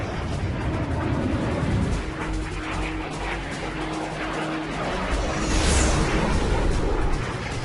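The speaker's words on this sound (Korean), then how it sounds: "슈베르트의 중포가 다시 한번 나는 요새를 두들겼다" Heavy cannon fire from a German jet fighter pounding a B-17 Flying Fortress bomber in mid-air: a continuous loud roar of engines and rumbling blasts, swelling near the end, with no speech.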